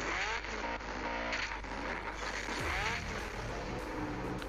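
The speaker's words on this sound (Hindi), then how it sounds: "कार की आप आवाज़ सुनना भाई साहब, बहुत ही गजब आवाज़ है।" Car engine in GTA San Andreas on Android with a DirectX-style graphics mod, a steady loud game engine drone with shifting revs and a brief nitro-like surge, no voices.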